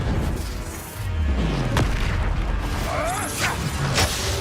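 A Confringo fire-blast spell in the Hogwarts Legacy game bursts in a loud, dense boom amid ongoing combat effects, with several sharp magical cracks and whooshes following.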